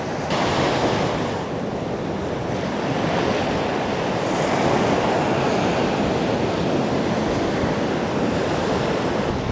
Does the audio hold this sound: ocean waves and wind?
yes